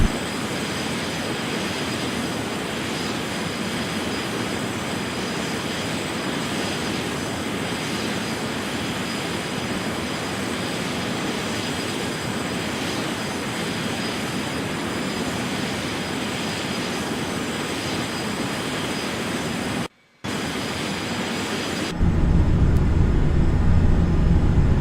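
Airliner jet engines roar steadily at climb thrust in Microsoft Flight Simulator X, a continuous loud broadband drone that cuts out briefly before a deeper, heavier rumble takes over.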